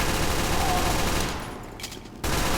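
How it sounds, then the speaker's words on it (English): Scout's pistol firing in Team Fortress 2, a dense burst of rapid, sharp reports packed together, fading into a brief lull before the loud firing resumes near the end. "And for the pistol, great for hitting your targets long range"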